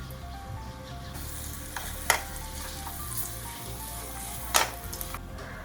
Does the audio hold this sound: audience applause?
no